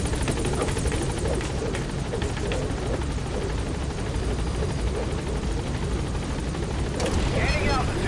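Pequod, the helicopter in Metal Gear Solid V, whirs loudly and continuously with thudding rotor beats close by, as a voice speaks over the engine noise.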